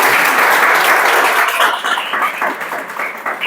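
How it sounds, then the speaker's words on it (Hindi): A class of students applauds together, dense hand clapping that starts full and loud and then thins slightly into scattered claps toward the end. "ताली बजाओ"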